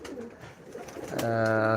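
Male pigeons coo in a low, throaty, warbling call that swells near the end, close by over a steady background hum.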